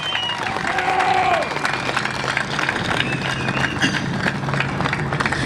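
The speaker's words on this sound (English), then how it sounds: "let's give it a big round of applause for the guys" A large crowd at an outdoor charity motorcycle event applauds and cheers loudly and continuously for law enforcement, with whoops and shouts rising over dense clapping.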